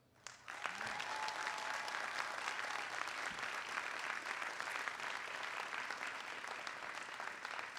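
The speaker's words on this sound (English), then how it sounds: "they deserve a big round of applause" Sustained applause from a large commencement audience at Dartmouth College's 2022 graduation ceremony, beginning abruptly after a brief quiet moment and holding steady and dense as a broad wash of clapping throughout.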